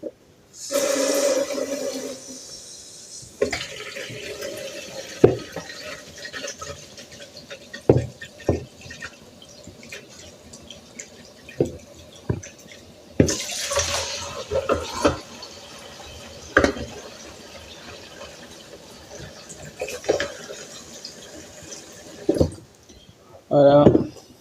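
Sprouted seeds rinsed under a running tap, a steady wash of water with scattered drips and splashes across the stretch, while a voice speaks over it at times.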